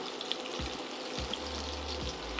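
A halved, crushed garlic clove fries in a pan of melted butter. The sizzle is close and steady, with faint low thumps marking moments of movement in the pan.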